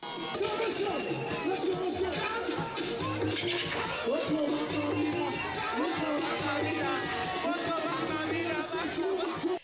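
Audience cheering and shouting at a live concert, a dense steady roar of crowd voices and whoops that fills the whole stretch without a break.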